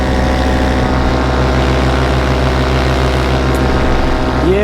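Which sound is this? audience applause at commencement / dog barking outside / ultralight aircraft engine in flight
ultralight aircraft engine in flight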